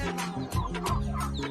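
Farm chickens cluck nearby in short, overlapping bursts, with several hens calling at once in a brief, busy flurry and no voices.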